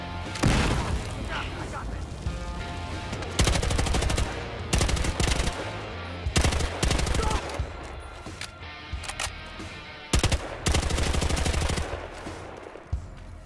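Bursts of game gunfire from Battlefield Hardline, with loud automatic volleys and booming shots arriving in several separated clusters, close and heavy.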